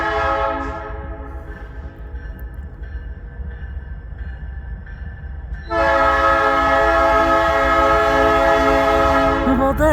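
A CN freight train led by an ES44DC locomotive rolls past at West Ladysmith, loud rumbling with a long, sustained horn blast that swells sharply louder partway through, no voices.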